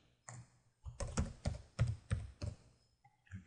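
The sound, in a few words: typing on a computer keyboard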